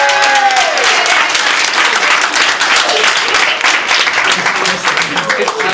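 Wedding guests at a reception burst into loud, sustained applause that fills the room, with a few voices and cheers mixed into the clapping.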